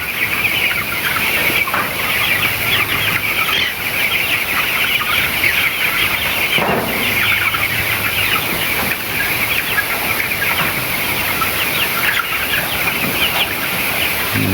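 A flock of broiler chickens in a poultry farm in winter clucks constantly, a close, loud, dense chorus of overlapping birds with no talking.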